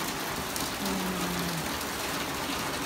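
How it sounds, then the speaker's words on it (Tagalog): Steady, dense typhoon rain hisses continuously without pause, a heavy downpour close by a porch with a faint low hum briefly underneath. "Malakas naman yung ulan."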